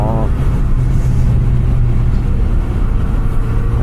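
Kawasaki Z900 RS Cafe engine droning loud and close on a downhill canyon ride, rising in pitch before a brief gear change with a voice talking over it.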